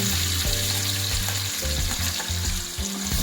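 Onion paste and ginger-garlic paste fry in ghee with a loud, steady sizzle, and a spoon scrapes and stirs through it in the foreground, with no pauses and no talk.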